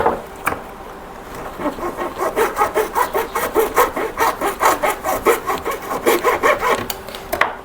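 A pipe being hand-sawn for a homemade high-pressure water wash pump, with a close, steady rhythm of rasping back-and-forth strokes, roughly two per second, after one sharp knock at the start; no talking.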